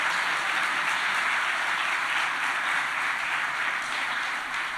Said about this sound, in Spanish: Un aplauso para todos esos